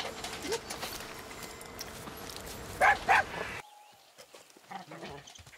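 A dog in the video game Far Cry 6 gives a couple of short, loud barks amid game ambience before the background drops to quieter sounds.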